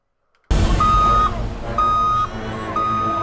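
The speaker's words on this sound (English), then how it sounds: "their backing up beeper is up to code" A vehicle's reversing beeper sounds three evenly spaced, sustained electronic tones over a rumbling engine, starting abruptly after a moment of silence.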